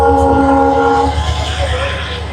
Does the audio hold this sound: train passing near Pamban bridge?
yes